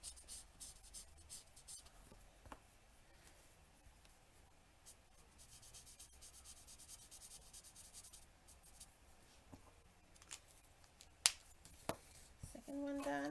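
Marker strokes scrubbing across a scrap of patterned designer paper while coloring in a handmade card, a soft continuous rubbing with a few sharper taps, close and quiet with no talking.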